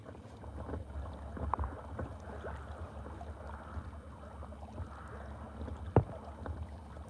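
A small electric inflatable boat cruises along a river at an easy pace, giving a steady low rumble of water and wind noise with a couple of brief knocks, no one talking.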